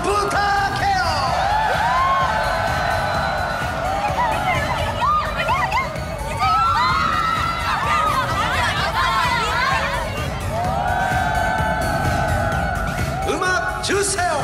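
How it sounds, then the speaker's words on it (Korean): A crowd at a pop performance cheers and shouts loudly and continuously, with high-pitched yells and rising whoops layered over a dense wash of voices. "함성 부탁해요!"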